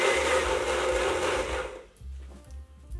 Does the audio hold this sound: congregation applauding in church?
no